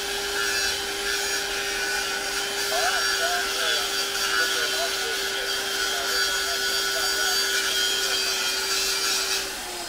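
An angle grinder grinds metal and throws sparks, a steady loud grinding roar with a sustained high tone running the whole time without pause, heard through a Motorola R2 digital radio with noise cancellation.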